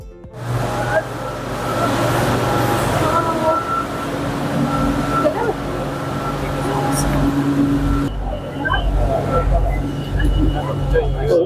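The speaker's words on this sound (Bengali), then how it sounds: "আমাদের বিটিএস ট্রেন হচ্ছে চলে আসছে" A BTS Skytrain in Bangkok rumbles steadily with a droning mechanical whine as it pulls into a crowded station, with crowd noise and voices running underneath.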